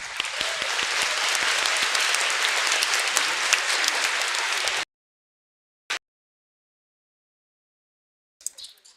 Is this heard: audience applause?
yes